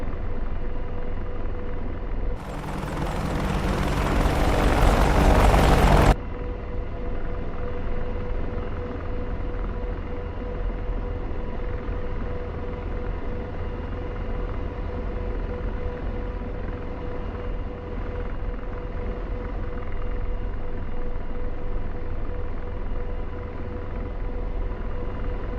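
A helicopter's engine and rotors in the video game DCS World drone as a continuous heavy rumble, with a brief louder burst early on and no talking.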